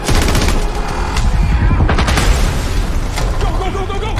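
Dense, rapid gunfire from a shootout in a 2022 action movie trailer, loud bursts layered over music and effects that fill the whole stretch.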